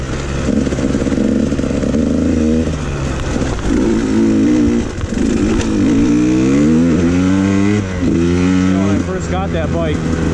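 A KTM 150 XC-W two-stroke dirt bike engine runs during break-in, loud and close, its pitch rising and falling through repeated revs and throttle blips with a sustained buzzing tone.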